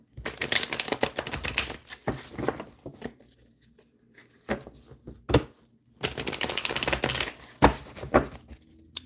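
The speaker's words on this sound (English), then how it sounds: "I'm going to just give the cards 3 good shuffles." Cards riffle and rustle in quick papery bursts, two rounds of shuffling separated by a pause with a few scattered taps.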